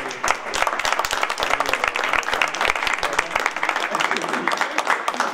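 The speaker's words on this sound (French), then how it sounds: "Je pense qu'on peut vraiment applaudir Charlie" Applause from an audience at a morning event, a dense stretch of clapping that holds steady for several seconds with voices mixed in underneath.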